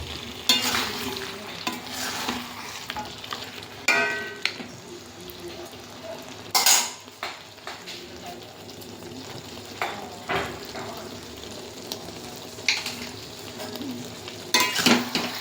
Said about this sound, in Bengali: টমেটোগুলো দিয়ে দেবো লবণটা দিয়ে একটু নেড়ে ভালো করে